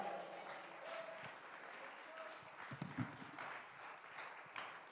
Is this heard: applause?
yes